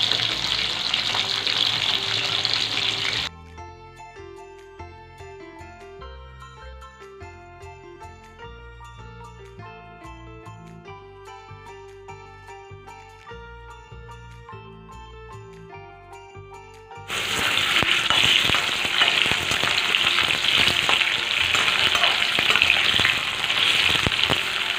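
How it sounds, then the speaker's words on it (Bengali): Hilsa fish curry cooking in a pan, with loud steady frying and sizzling that breaks off for a long stretch of music before the sizzle returns just as strong. "সেই ইলিশ মাছটাই রান্না করব"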